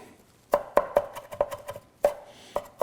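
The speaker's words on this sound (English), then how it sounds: "Then we'll work them over a little bit, minced up." A knife chops green onions on a cutting board for a smoked sockeye salmon dip, giving about nine sharp, close taps in an uneven rhythm with short pauses.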